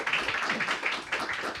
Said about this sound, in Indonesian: Tepuk tangan buat Pak Aziz Subakti.